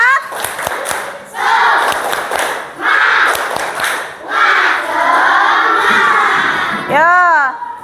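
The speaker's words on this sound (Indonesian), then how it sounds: "tepuk semangat." Schoolchildren in a Jakarta primary school class chant and clap the 'tepuk semangat' routine in loud bursts of voices with rhythmic claps, ending with a rising playful shout.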